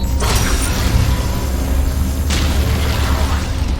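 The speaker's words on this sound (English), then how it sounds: "These explosions are making it super hard for me to see." Explosions in a Mass Effect 3 video game battle: two sharp booming bursts, one at the start and another midway, rise over a constant loud rumbling din of combat.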